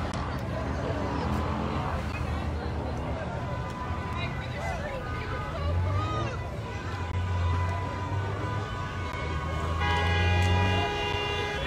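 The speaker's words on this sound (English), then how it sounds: "you can hear lots of honking from the road" Car horns honk from the road during a street protest at a corner in Roanoke, sounding as repeated toots and longer blasts over constant traffic and crowd babble, with a sustained horn rising near the end.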